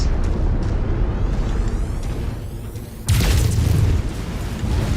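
A destroyed mech explodes in the MechWarrior 5 video game, a sudden loud burst that breaks over a steady rumbling battle background about three seconds in and then keeps roaring without talk.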